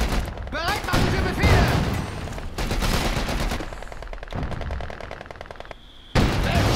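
Rapid machine-gun bursts and scattered gunfire in the World War II strategy game Company of Heroes 2, loud and dense through most of the stretch, with battle noise and a voice briefly breaking in near the end.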